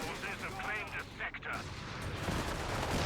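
Anti-tank gun firing during a Company of Heroes 3 battle, landing side hits on a Churchill tank: a loud, dense barrage of booming gunfire and explosions that runs steadily through the whole stretch, with no talking over it.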